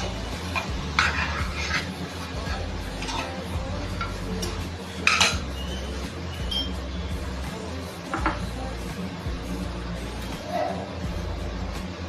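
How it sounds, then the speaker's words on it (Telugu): A metal spoon stirs bottle gourd curry seasoned with cumin powder in a pan, with soft scraping and occasional clinks against the pan over a steady low kitchen hum. "వేసి బాగా కలపాలి."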